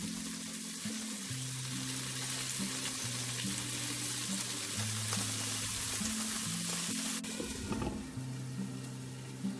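Salt-baked chicken wings pan-fry over low heat, giving a steady, even sizzle throughout, with background music playing over it.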